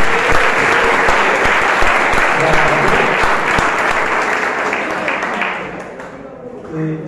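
An audience at a Bible verse recitation contest bursts into loud sustained applause with some cheering, close and dense, gradually fading toward the end with a voice speaking over it.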